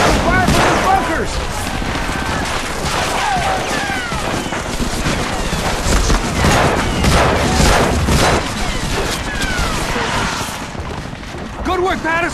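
Heavy gunfire from a World War II battle in the Medal of Honor video game, with dense overlapping shots, booms and rattling weapons throughout and shouted voices mixed into the chaos.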